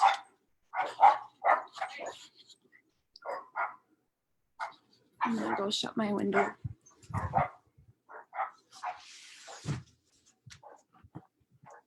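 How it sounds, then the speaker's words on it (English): Dogs bark in short, sharp bursts in the background while a person painting talks nearby, with a few pauses between the barks. "you can hear my dogs barking in the background"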